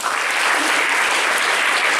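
Dense, loud applause from a large audience at a College of Engineering Guindy anniversary event, a steady unbroken roar of many clapping hands filling the whole moment.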